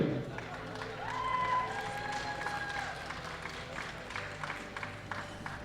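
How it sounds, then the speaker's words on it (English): Audience applauding the top three women's 63 kg bench press lifters at an awards ceremony of a world classic powerlifting championship, steady clapping in a large hall with a faint tonal ring and some background voices. "Give us applause for the best three in the bench press"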